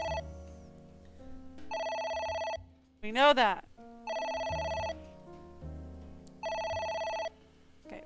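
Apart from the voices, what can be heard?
phone ringing, from video game AI: The Somnium Files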